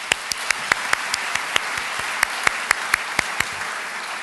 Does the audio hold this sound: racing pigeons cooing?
no